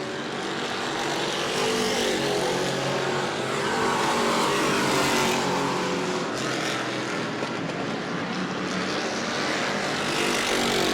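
Race cars lapping at New Smyrna Speedway, engines roaring loud and sustained as the pack passes, with a rising and falling whine and no talk.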